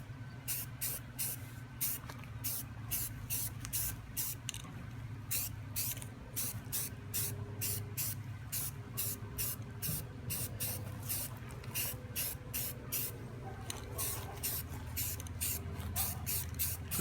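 Short bursts from a spray can apply a light coat to a 3D printed helmet, quick hissing puffs repeating in a steady rhythm at close range over a low background hum.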